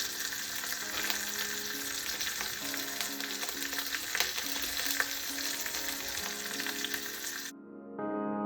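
Lamb meat browns in a hot pan with a loud, dense, continuous sizzle that holds steady for several seconds and then cuts off abruptly.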